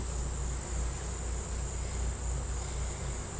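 Honeybees hum steadily inside an opened beehive after smoking, a dense, even, close buzz with no voices.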